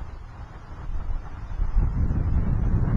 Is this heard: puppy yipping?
no